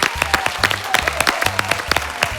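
A studio audience on a Spanish-language bar-debate TV show claps steadily for a journalist named Sergio, dense rapid clapping at an even, loud level, with a low rhythmic musical tone running beneath.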